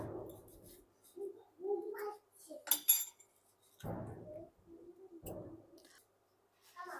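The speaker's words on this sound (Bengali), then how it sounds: "লঙ্কাটা কাটার পর লঙ্কার এই ভেতরের অংশটা আমি একটা চামচের সাহায্যে বের করে নেব।" A spoon scrapes and scoops the soft insides out of a cut chili pepper for lanka chop, giving short, close clinks and scraping bursts separated by brief pauses.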